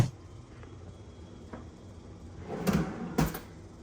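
A drawer in a Disney Wilderness Lodge hotel kitchen is opened and closed. Two sharp, close wooden knocks stand out near the end, after quieter handling sounds.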